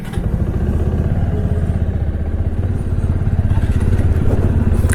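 A group of six motorcycles sets off together at the start of a bike trip, their engines rumbling loud and near in a steady, pulsing throb that holds throughout with no talk over it.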